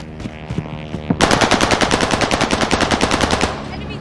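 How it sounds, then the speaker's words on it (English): Rapid, loud gunfire from an anti-tank rifle in the Call of Duty: Warzone video game, a dense rhythmic burst of repeated shots lasting a couple of seconds after a few scattered single reports. "So much kick on this anti-tank rifle."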